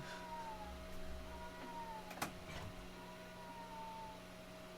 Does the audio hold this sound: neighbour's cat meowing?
yes